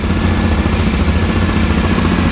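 Close and loud, a Yamaha Ténéré 660 motorcycle idles with a dense, rough, steady rumble and fast pulsing beat, with nothing else heard over it.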